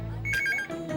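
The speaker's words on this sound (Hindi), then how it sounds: "फोन आ रहा है।" A telephone rings once in a short electronic trill of rapid repeated tones, fairly close and clear, after a brief low hum and before faint room sound.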